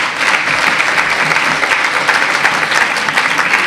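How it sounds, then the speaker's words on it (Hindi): Loud, dense applause for a group of children at a school program, continuous clapping from a crowd with no voices on top. "सभी बच्चों के लिए जोरदार तालियां प्लीज।"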